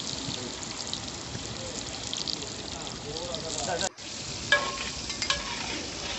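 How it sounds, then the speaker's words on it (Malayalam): Fish fillets rubbed with chili marinade frying in hot oil, giving a steady dense sizzle throughout with stirring clatter, a brief dropout near the middle, and a few sharper spits toward the end. "സൈഡിൽ മീൻ എണ്ണയിലിട്ടുകൊണ്ടിരിക്കുന്നുണ്ട്."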